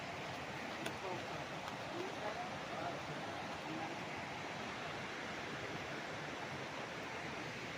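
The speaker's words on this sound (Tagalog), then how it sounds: "Sarap pakinggan ng lagaslas ng tubig" Rushing river water below an elevated farm property in Majayjay, Laguna, a steady broadband wash that stays constant and fairly faint from start to finish, with no talk over it.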